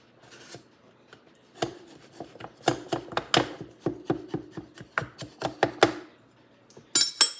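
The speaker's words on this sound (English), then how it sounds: "I'm just going to take a knife and go around the edge" Knife run around the edge of an angel food cake pan, a series of close scraping and tapping strokes, sparse at first then quicker and steadier, ending with a brighter clatter, no talking.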